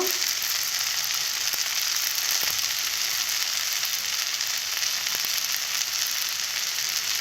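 Tengra catfish frying in a pan for a spicy shimul tengra curry, a steady broadband sizzle running throughout at moderate level with a few faint clinks, no voices.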